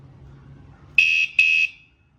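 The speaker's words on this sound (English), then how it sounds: "So now if it senses anything within the next 12 seconds, the alarm will go off. And it's loud." A WSDCAM USB rechargeable bike alarm goes off close by, sounding two loud, steady high-pitched electronic tones, each about a third of a second long, separated by a short gap and standing alone over faint background noise.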